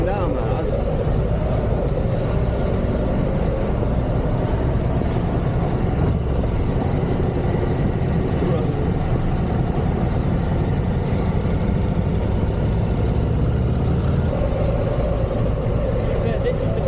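Rented Harley cruiser motorcycles rumble along at a steady, loud, continuous engine drone with wind noise, no pauses throughout.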